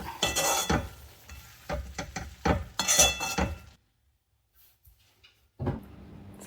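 Cabbage, peas, tomato and carrot curry being stirred in a pot, with scraping and clinking of a utensil against the pot in bursts over about four seconds, then near silence and a final soft scrape.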